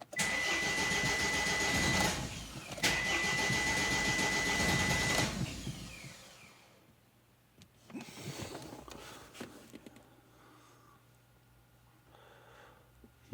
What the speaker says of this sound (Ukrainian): Глушимо і пробуємо запустити.